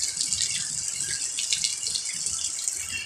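Steady rain falls, a dense hissing patter that runs evenly and fairly loud throughout, with no voices over it.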